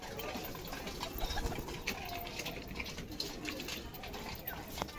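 Pigeons at a home loft cooing softly amid rustling and a busy background hum, with a person talking over them.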